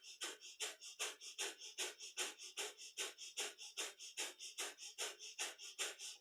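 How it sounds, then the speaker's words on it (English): Breath of fire during kundalini yoga: rapid, rhythmic nasal panting breaths, about three per second, steady and close, with no talking. "So breath of fire is our panting breath"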